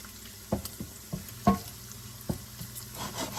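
Cabbage and bacon sautéing in a pan with rendering bacon fat: a low steady sizzle broken by several sharp stirring clanks and scrapes, the loudest near the middle, no talk.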